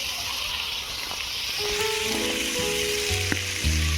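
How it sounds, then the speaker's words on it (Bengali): Cauliflower, carrot and beans fry in a pan of oil for a vegetable dal, giving a close, steady sizzle with a few faint clinks toward the end. "ফুলকপি, গাজর, বিন ভাজা ভাজা হয়ে এসছে"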